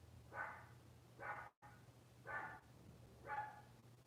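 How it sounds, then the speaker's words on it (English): A dog barks four times at a steady pace from a distant room on the other side of the house, downstairs. The barks are faint and muffled over a low background hum. "Can you hear my dog?"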